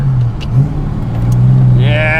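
A 1979 Cobra fitted with a new exhaust revs loudly up close, its engine note rising and dipping with quick throttle blips for rev matching, ending in a climbing whine, with a voice talking over it.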